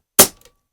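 A single sharp shot from a SNOWPEAK PP750 4.5mm PCP air rifle, a quick crack that fades within a fraction of a second, with a faint click after.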